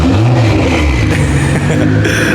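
Nissan GT-R's turbocharged engine roars loudly and steadily, close by, among a gathering of BMW M cars at a car meet, with no talk over it.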